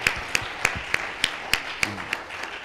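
Applause for award recipients at a prize-giving ceremony, with a few sharp, evenly spaced claps standing out over a soft, steady patter of clapping, moderately distant.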